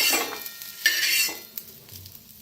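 Onion seeds (kalonji) being dry-roasted on a tava pan, giving a soft crackling sizzle with metal stirring scrapes, close by and moderately loud, with no talking.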